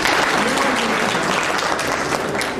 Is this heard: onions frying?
no